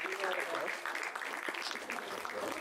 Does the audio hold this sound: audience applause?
yes